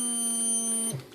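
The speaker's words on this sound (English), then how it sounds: "That's my timer going off on the radio from all my testing." An electronic timer beeps from a radio transmitter, one sustained high tonal beep that cuts off abruptly near the end, heard clearly with no speech.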